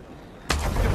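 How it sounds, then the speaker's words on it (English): A ship's cannon broadside in Assassin's Creed 3 bursts in halfway through, one loud booming blast that follows a quiet lead-in and carries on as a rumbling roar. "Fire broadside!"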